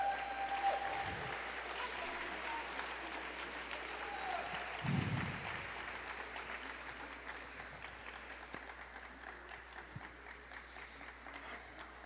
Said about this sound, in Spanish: Un fuerte aplauso a Dios.